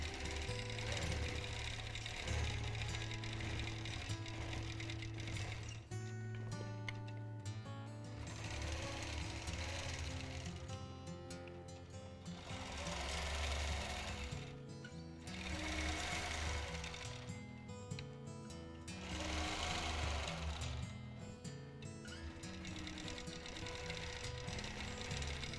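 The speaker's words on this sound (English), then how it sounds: "I am quilting on my long arm today" A long arm quilting machine stitching free motion quilting runs steadily and close, its rapid needle chatter and motor hum holding throughout, with a few brief dips in pace.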